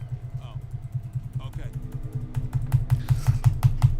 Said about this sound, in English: Can you hear the clicking of me mashing the W key?